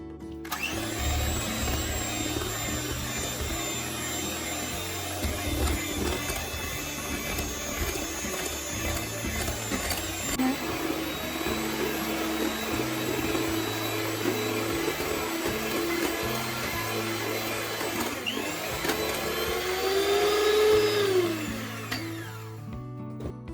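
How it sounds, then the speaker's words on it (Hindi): An electric mixer whirs steadily through eggless cake batter until smooth, a continuous close motor drone with slight pitch shifts as the batter thickens, no voices. "बैटर स्मूथ होने तक मिक्स करना है।"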